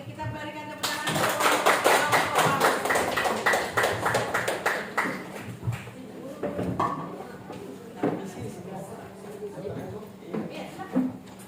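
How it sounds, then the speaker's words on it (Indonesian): An audience clapping at a group presentation session, a burst of many hands near the start that thins into scattered claps and taps, with voices talking over it. "Oke, kita berikan tepuk tangan."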